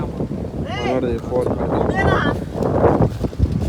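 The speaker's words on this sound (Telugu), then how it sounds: "మీకు గాలి సౌండ్ కదా చూడండి ఎంత గాలి వస్తుంది" Strong wind gusts across a beach in Goa, a steady broadband rush buffeting the microphone while several people talk loudly over it throughout.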